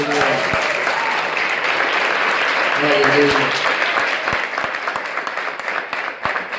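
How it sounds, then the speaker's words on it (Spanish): A church congregation claps steadily and loudly for several seconds, a dense wash of applause with voices mixed in, tapering slightly toward the end. "Dale un aplauso al Señor."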